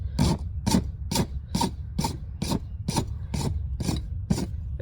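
A rasp files down horseshoe nail ends on a hoof in about eleven quick, evenly spaced scraping strokes, close and fairly loud, with no talk over them.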